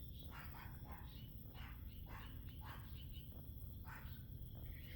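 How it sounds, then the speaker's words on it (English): At about 2 a.m. a small dog on a porch barks repeatedly in short bursts, heard from a distance through steady night insect chirping outdoors. "God, that little dog's barking today."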